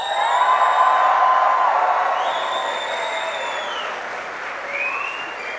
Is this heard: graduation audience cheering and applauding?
yes